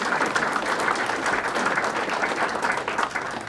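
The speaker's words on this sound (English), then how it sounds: "Round of applause for all of our past winners that are here." Audience at an award dinner applauding, a dense, steady wash of many hands clapping together at close range, sustained evenly throughout without speech on top.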